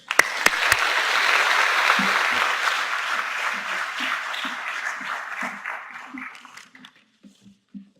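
Audience applause in a lecture hall as a student speaker is welcomed to the stage: a dense burst of clapping that swells quickly, holds, then thins out and fades over several seconds while a voice begins speaking.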